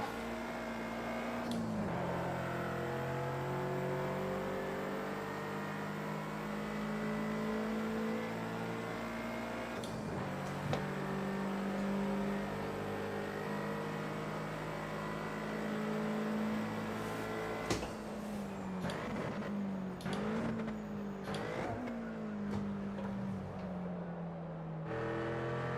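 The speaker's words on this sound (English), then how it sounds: "God, this car is slow." A slow race car's engine drones continuously in a racing video game, its pitch rising and falling through gear shifts and revs over a long stretch, with a few sharp clicks and brief dips.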